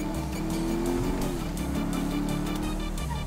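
Motorcycle engine in the video game GTA 5, a steady droning engine whine with a gliding pitch shift and rushing road noise, loud and continuous, no talk.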